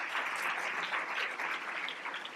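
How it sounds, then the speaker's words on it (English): An audience at a legal writing competition awards ceremony applauds steadily, with dense, continuous clapping filling the room at even volume from start to finish. "Let's give them a round of applause"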